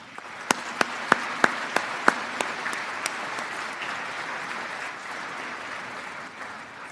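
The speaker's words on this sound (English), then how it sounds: "Please join me in giving these valued educators a round of applause." Audience applause at a 2020 graduation ceremony for valued educators, starting with a few sharp separate claps before spreading into steady, moderately distant clapping that slowly fades.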